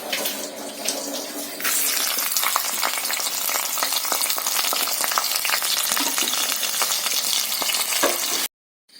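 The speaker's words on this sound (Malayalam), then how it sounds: "എണ്ണ തിളച്ച് നമുക്ക് അതിലേക്ക് തേങ്ങാക്കൊത്തിട്ടൊന്ന് മൂപ്പിച്ച് കോരിയെടുക്കാം" Coconut pieces fry in hot oil with a loud, dense crackling sizzle that swells after a quieter start and holds steady close up, then cuts off abruptly near the end.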